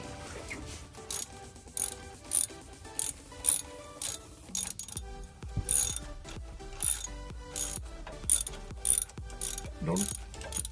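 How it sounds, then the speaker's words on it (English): Ratchet clicks sharply in repeated bursts, roughly one per second, tightening the crankshaft position sensor bolt on a Cadillac Escalade; close and loud, no talking, with faint metallic pulley-like whirs between strokes. "now I can use my ratchet and we can tighten it"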